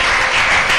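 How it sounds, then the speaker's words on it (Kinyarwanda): A church congregation claps hands in a dense, loud, continuous wash of applause, close and filling the short moment without any talk over it. "Hayesa amashyi"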